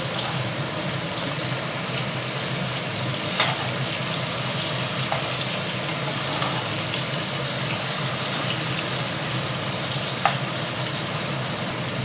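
Steady, dense sizzle of hilsa fish pieces frying in hot oil, continuous and close, with a few faint clicks of utensils and no talking.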